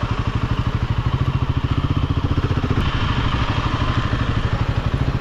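Off-road motorcycles ride across a farm, their engines a loud, close, steadily throbbing rumble with rapid rhythmic pulses and occasional clattering throughout.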